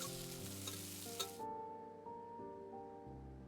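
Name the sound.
oil sizzling in a hot pan, from video game Love and Deepspace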